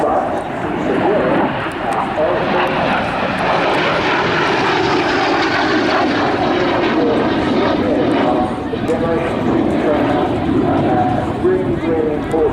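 An L-39 Albatros jet trainer flies a display at the Southport Airshow 2025, its engine a loud, continuous broad roar that swells slightly as it passes, with an announcer talking over it throughout.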